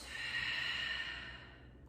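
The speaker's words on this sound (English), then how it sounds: "Full breath out." A long, full exhalation during a yoga session, one soft, airy breath out close to the listener that slowly fades away, with no talking over it.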